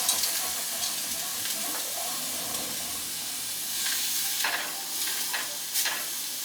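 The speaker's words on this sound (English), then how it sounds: "Gotta let this simmer for a little bit longer" Food simmering and sizzling in a pan, a soft, continuous hiss with occasional bubbling pops and brief stirring sounds, fairly quiet and heard alone.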